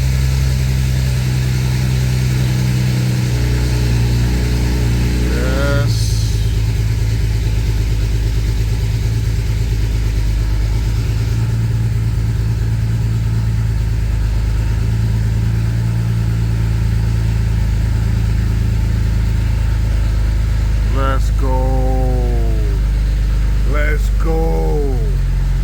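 A BMW N54 engine idles steadily throughout while its cooling system is being bled, a low continuous hum with brief faint sounds and short voices breaking in now and then.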